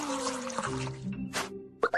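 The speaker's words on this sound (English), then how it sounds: "Let's add some warm water first." Warm water poured into a baby bottle, a soft liquid trickle with a couple of plopping drips near the end, quiet and close.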